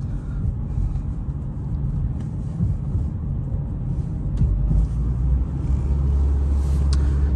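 A 2014 Mitsubishi Lancer ES with 112,000 miles drives through city streets, its low steady road rumble and engine hum filling the cabin, with no talking.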